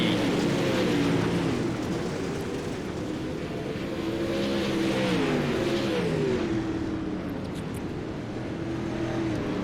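Dirt late model race car engines at Port Royal Speedway in iRacing, a loud, continuous roar of several engines revving and shifting together, rising and falling in pitch throughout with no voices.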